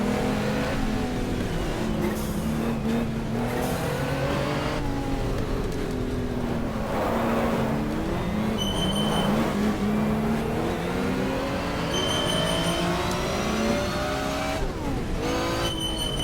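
Race car in the video game GTR2 on a WTCC-style circuit at Wellington: a loud, continuous engine that rises and falls in pitch through gear changes and revs, with tyre and road noise underneath.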